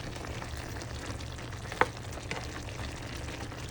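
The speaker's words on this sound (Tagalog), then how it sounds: "Yan, kumukulo na." Pot of Filipino pinakbet vegetable stew with a little water bubbling on the stove, a steady close simmering hiss with a faint clink partway through.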